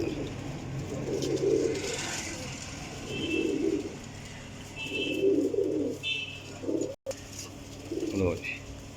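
Rampuri pigeon cooing in four or five evenly spaced, low throaty bursts, close by, over a quiet background with light incidental noise.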